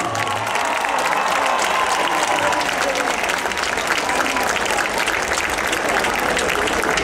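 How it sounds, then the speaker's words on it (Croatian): A live concert audience in Osijek applauds a performance, with dense, steady clapping that fills the space and carries faint crowd voices and cheers throughout. "veliki aplauz"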